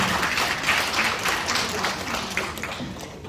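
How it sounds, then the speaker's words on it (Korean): Modest audience applause at a Korean district committee launch ceremony, a fairly faint, scattered patter of hands that thins toward the end. "참여하신 모두에게 서로의 환영의 박수를 부탁드리며"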